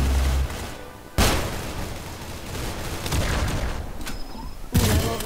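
Loud rocket launcher blasts from a shooter video game, two sharp booms with rumbling, crackling gunfire and explosions filling the gaps between them; no talking.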